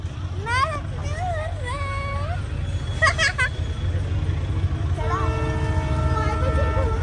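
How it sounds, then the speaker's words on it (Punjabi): A passing train on a railway line, with a steady low rumble throughout and horn-like tonal sounds rising over it, while people talk nearby. "ਇੱਕ ਹੋਰ ਆ ਗਈ ਭਾਈ ਟ੍ਰੇਨ ਇੱਕ ਹੋਰ ਆ ਗਈ"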